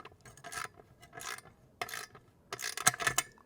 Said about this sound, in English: Now we're going to use the Allen key, right, to secure the bolt on this side, and then use the socket on this side